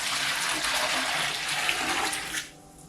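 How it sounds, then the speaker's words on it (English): Marigold dye liquid poured back into a dye pot, a steady loud splashing stream that runs for over two seconds and then stops abruptly. "Now I'll return this liquid to that dye pot."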